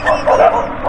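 A dog barks and yips briefly at close range during a roadside stop on a motorcycle ride near the Kaybiang Tunnel, a short burst with outdoor ambience.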